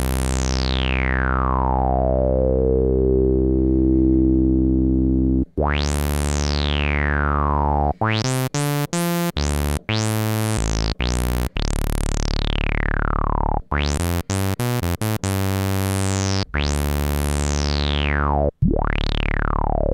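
Yamaha CS-15 analog synthesizer tone shaped by envelope generator 1, sharp bright attacks sweeping down into a filtered decay, repeated in a fast irregular sequence of plucks and longer swoops, loud and alone.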